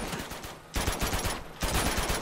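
Sniper rifle fire in Uncharted 2: Among Thieves during a prison break sequence, two loud sharp reports spaced under a second apart, each with a long rolling tail amid a busy game soundscape.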